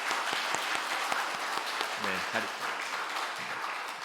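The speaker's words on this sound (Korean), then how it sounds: "우리 박수로 우리 격려하며 축복하도록 하겠습니다." Church congregation at a Sunday worship service in Korea applauds to encourage a young member, a steady wash of clapping from a roomful of people, while a voice speaks briefly over it partway through.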